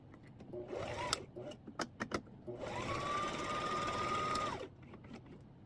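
A sewing machine stitching a divider piece onto a small fabric organizer: a few short taps and jabs, then a steady two-second whirring run at close range before stopping, with no talk.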